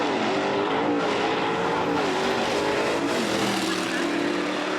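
Race car at a power wheelstanding championship roaring at full throttle, a loud continuous engine howl whose pitch climbs, dips and climbs again as the car lifts and drops, with a faint voice underneath.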